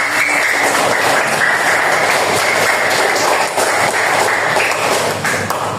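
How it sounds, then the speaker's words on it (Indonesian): Students in a classroom clap for a group presentation, a steady, loud wash of applause filling the whole stretch without letting up. "Ayo tepuk tangan dulu"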